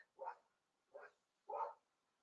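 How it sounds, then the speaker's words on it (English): A dog barks three times in short, evenly spaced bursts, fairly faint and with no other sound around them. "Dogs are barking, and Chelsea could be in here."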